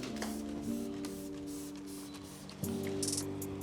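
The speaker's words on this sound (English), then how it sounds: "So we give it a bit of a spray." A few quick, hissy spritzes from a detailing spray bottle onto a cloth while detailing a BMW X3 M40i, quiet, over soft background music.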